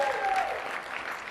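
Brief burst of audience clapping at a PayPal developer community event, a steady patter of many hands with a faint voice fading underneath.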